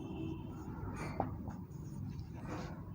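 Pen or chalk scratching out equations by hand, a few soft strokes and taps close by over a low room hum.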